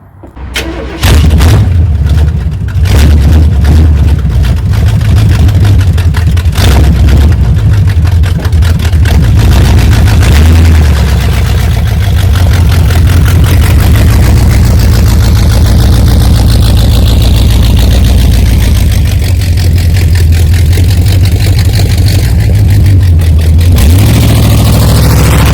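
A 1978 Chevy K10 truck engine that had sat for 27 years cranks and catches, then settles into a loud, steady rough idle with brief revs early on, running close up for the whole stretch before quieting at the very end.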